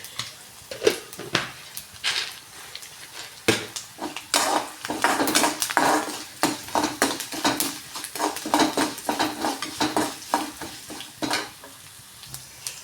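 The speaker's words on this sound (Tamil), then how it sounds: "இந்த பருப்பு வதங்குற டைமில் இந்த பூண்டும் வதங்கிடும்" Black urad lentils and garlic sauté in a pan, a constant sizzle under rhythmic scraping and stirring strokes of a spoon against the metal, close and busy throughout.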